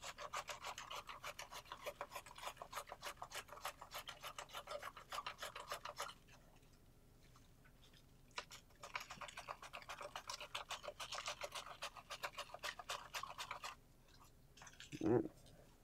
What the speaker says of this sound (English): the mandolin does a great job of making very thin slices.